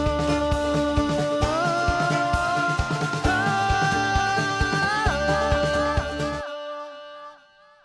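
A vocal line with a delay effect and no sidechain compression, dense and sustained with repeats blending evenly into the dry voice under a full backing mix, then a trailing echo tail as the music cuts off.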